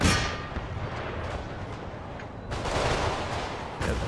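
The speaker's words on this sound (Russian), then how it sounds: "Это пушка." Cannon fire in Empire: Total War: a dense, continuous rumble of booming artillery that swells into louder bursts in the second half, with no voices.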